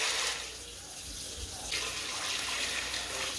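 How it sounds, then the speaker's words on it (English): Water streams into a Ninja cooker over a pound of dry elbow macaroni, a continuous rushing gush from a tap or jug that swells and eases slightly throughout, fairly close and with no voices over it. "Now I'm going to cover those noodles with water."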